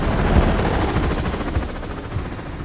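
A helicopter in a film flies past with a steady, loud, pulsing rotor chop and engine roar throughout, with no voices over it.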